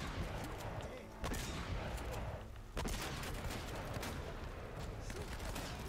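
Rapid bursts of gunfire from the video game Uncharted: Drake's Fortune crackle in dense volleys with brief gaps, and a voice talks over the shooting.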